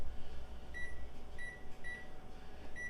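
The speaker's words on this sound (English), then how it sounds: "Set the timer for 20 minutes." A kitchen oven timer gives a short series of evenly spaced electronic beeps, clear and fairly close, over a low steady hum with no talking.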